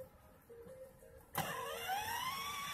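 A Mercedes-Benz pulls away as the driver presses the gas: after a quiet idle, the engine surges abruptly and keeps rising, close and loud.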